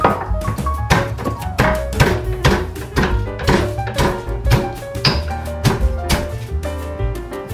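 Garlic heads are pounded in a mortar with a pestle, a steady series of close, heavy thumps repeating roughly every half second with no talking.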